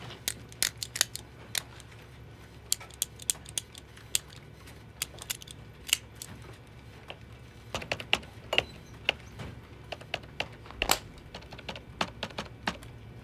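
A ballpoint pen is clicked over and over in an office, a long run of crisp, close mechanical clicks in irregular bursts with short pauses, no voices.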